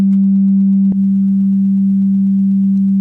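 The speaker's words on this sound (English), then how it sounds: "which I generated by a frequency of 195 Hertz that lines up nicely with the blinker" A generated 195 Hz sine tone, a low G, hums loud and steady for about three seconds, with one faint click near the start and a quiet ticking underneath.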